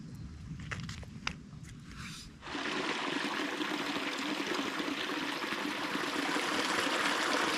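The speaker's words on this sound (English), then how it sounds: "Creek has a lot of these neat little mini waterfalls." A creek pouring over small waterfalls, starting with a few clicks and faint trickling, then swelling into a loud, steady rushing wash that continues to the end.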